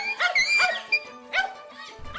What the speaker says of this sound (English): It's interesting to see a dog running for mercy after being whipped by an iguana.